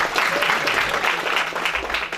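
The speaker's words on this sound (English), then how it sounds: "Clap for yourselves." Students clap in a university debate session in Kenya, a steady even patter of applause lasting about two seconds at moderate level, with no speech over it.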